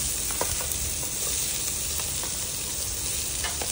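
Onions frying in oil with golden brown garlic, a loud dense close sizzle with crackling pops throughout, unbroken and without speech.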